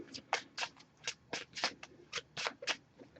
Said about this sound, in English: Just going to give this a few shuffles.